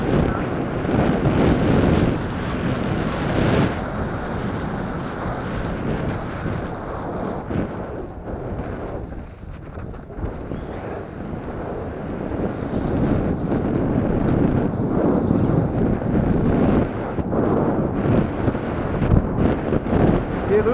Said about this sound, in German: Jetzt legt der Wind zu, wie vorhergesagt.